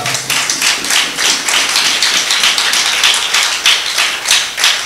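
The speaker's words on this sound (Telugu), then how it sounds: "మీరు చప్పట్లు కొడుతున్నారు" An audience claps steadily and loudly in a large gathering, with a dense rhythmic patter of many hands throughout.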